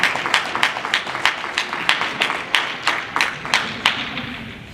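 Light, scattered clapping from a small audience at a community coffee gathering honoring fire chief Pete McCain, rhythmic and moderately close, with no voices over it.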